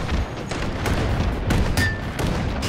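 A detonating enemy explodes in Hot Dogs, Horseshoes & Hand Grenades, a VR shooter: several loud, close booms and gunfire-like blasts follow one another over about three seconds.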